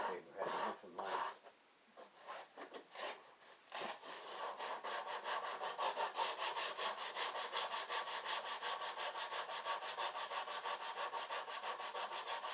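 Wooden garage door ends being sanded by hand with fresh sandpaper, close, rhythmic back-and-forth rasping strokes that speed into a steady fast scrubbing, with brief talk at the start.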